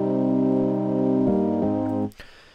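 FL Keys, the stock FL Studio Rhodes electric piano preset, panned to center, holds warm sustained chords with two quick chord changes before cutting off abruptly, leaving a faint tail and a few soft clicks.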